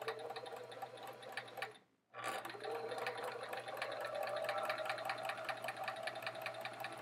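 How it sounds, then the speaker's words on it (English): Sewing machine stitching quilt half rectangle triangles in a continuous chain, a steady rapid mechanical whir with one brief pause before it resumes, fairly quiet and with no talk. "I'm going to sew on that line."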